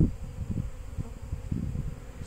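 Honeybees buzz around a hive, a faint, steady drone with soft low thumps and movement nearby, no voices.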